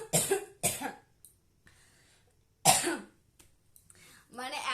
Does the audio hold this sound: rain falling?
no